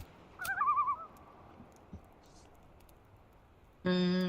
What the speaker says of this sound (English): There's an owl.